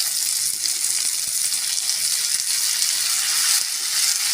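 Cut tomatoes hitting a pan of frying onions, giving a steady bright sizzle that holds evenly throughout, close and moderately loud, with no voices.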